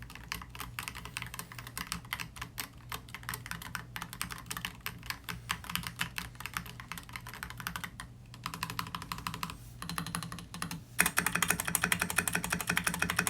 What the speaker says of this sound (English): the typing sound is pretty quiet for a mechanical keyboard